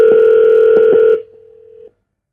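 A telephone places a call: a steady, loud tone with a few dialing blips over it cuts off after about a second, and a quieter single tone lingers briefly before silence.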